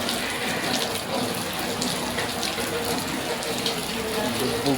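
Floodwater rushing through a street after heavy rain, a steady broad wash of flowing water that stays even and fairly loud throughout, with faint voices in the background.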